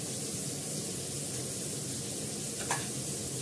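Potatoes sautéing in a pan, a soft continuous sizzle with one brief clink near the end.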